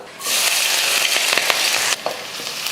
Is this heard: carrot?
yes